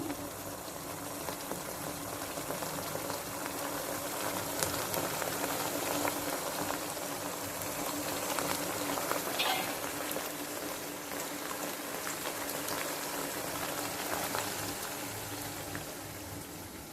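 Cucumber mutton curry simmers in a pot, giving a steady, continuous bubbling and popping at moderate level for the whole stretch, with no voices over it.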